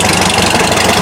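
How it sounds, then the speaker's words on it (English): An old McCormick Deering tractor engine idles steadily at close range, a continuous low rumbling drone with a faint knocking pulse at a parade in Peru. "How do you like this great old McCormick Daring tractor?"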